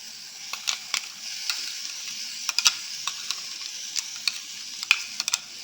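Onion and freshly ground masala fry in a pan over a low flame for chitranna, a soft steady sizzle broken by scattered sharp scrapes and taps of a spatula stirring, close and fairly quiet, with no talk.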